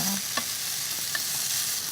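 Deodeok root grilling in a pan gives a continuous bright sizzle with a few faint clicks of stirring or turning, steady and close throughout.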